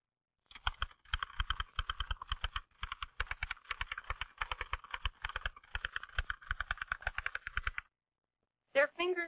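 Rapid typewriter keystrokes from a 1939 film, a steady clatter of closely spaced key strikes running for about seven seconds, then a brief pause and a short vocal-like burst at the end.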